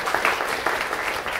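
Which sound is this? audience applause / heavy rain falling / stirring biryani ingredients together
audience applause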